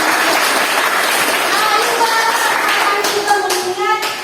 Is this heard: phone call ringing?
no